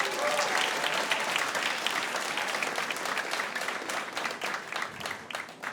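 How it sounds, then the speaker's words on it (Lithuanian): A studio audience applauds steadily to welcome the next host of a Lithuanian talk show, dense clapping sustained throughout and tapering slightly near the end. "Noriu, kad šiltais plojimais pasitiktumėte kitą šios laidos vedėją."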